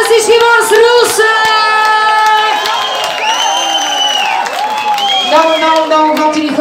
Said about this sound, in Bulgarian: Аплодисменти от всички вас